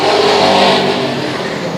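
United 8s race cars roar around Sauble Speedway in a close race, a loud, continuous engine drone that swells slightly and then holds steady.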